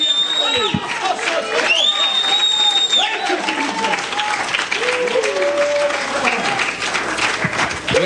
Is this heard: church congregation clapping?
yes